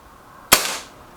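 A Reximex Lyra K carbine air rifle fires a single sharp, close shot at a target card, a crisp crack with a short fading tail in an otherwise quiet setting.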